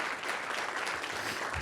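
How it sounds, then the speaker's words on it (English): Brief, dense round of applause from attendees at a homelessness coalition annual meeting, steady and moderately distant throughout. "That's worth a round of applause for all of you who do that work."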